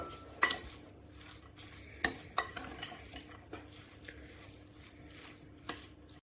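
Dough mixed with raisins is stirred with a utensil in a bowl: irregular scraping and clinking knocks, a few sharper taps, close and fairly quiet with no talking.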